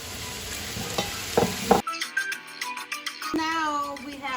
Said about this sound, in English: the onions, the garlic, the jalapeno peppers. They're all sauteing.